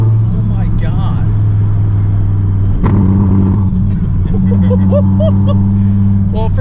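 A 1,500 hp twin-turbo Dodge Viper with a sequential gearbox rumbles loudly from inside the cabin, its engine droning and shifting down, while excited voices talk over it throughout.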